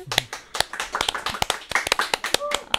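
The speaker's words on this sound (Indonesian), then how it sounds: "Tepuk tangan teman-teman." Scattered hand clapping from a small group of people, sharp separate claps in an uneven rhythm, close and fairly quiet, with no voices over it.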